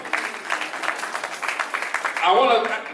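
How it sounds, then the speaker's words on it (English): Audience applause for Dr. Blyden at the AfriCANDO 2017 winners' ceremony, a steady patter of many hands through the stretch, with a voice rising over it near the end. "Let's give him another round of applause, Dr. Blyden"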